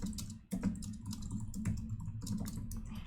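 Rapid, uneven typing on a computer keyboard with clustered clicks and key taps, a short pause near the start, then steady bursts of keystrokes close to the microphone with no voice.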